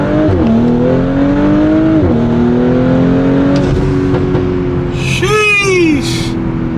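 An Audi S5 accelerates hard on an early morning drive, its engine droning loud and close and rising in pitch through several gear changes before a final sweeping rev.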